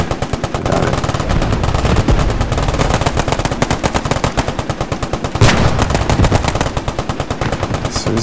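Machine-gun fire in the Squad 44 World War II D-Day battle game, a dense, rhythmic stream of rapid shots, loud and continuous, with a sharper burst partway through.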